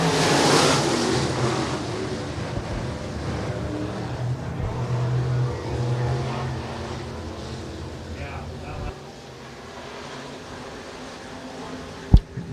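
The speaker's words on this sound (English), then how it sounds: "RPMs come up and the green is out." Stock car engines rev and roar together as the green flag drops at Shelby County Speedway, a loud dense engine roar that holds steady for several seconds then drops away, with a brief sharp bang near the end.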